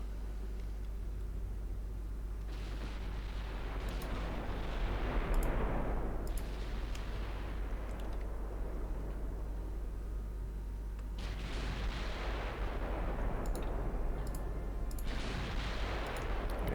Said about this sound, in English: Can we get some shots on this heavy cruiser before it leaves?